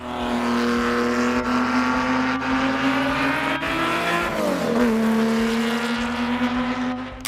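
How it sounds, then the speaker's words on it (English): A Lamborghini Miura's V12 engine runs with a steady, rich tonal drone that holds high revs, dips briefly as the pitch sags and then climbs back, loud and close with no talk over it. "At idle, the V12 purrs deeply, building to a mechanical roar as the revs climb and unleashing a high-pitched scream at full throttle."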